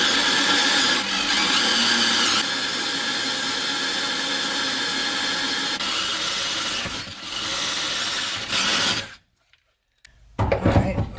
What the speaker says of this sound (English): So I'm just kind of drilling these holes out.